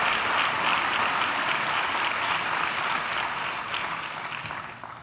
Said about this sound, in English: Let's give them again another big round of applause.